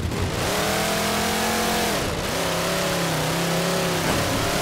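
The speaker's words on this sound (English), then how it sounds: "Just try to take my warthog around and see what you see." A Warthog vehicle is driven in the Halo 4 video game on the Outcast map, its engine droning steadily and loud with rising and falling revs and a dip midway, with no talk over it.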